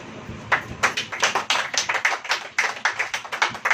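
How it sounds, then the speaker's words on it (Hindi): Congregation at a Hindi church sermon clapping hands in a quick, fairly regular rhythm, sharp distinct claps close by, several per second, with no talking. "अब ताली बजाइए।"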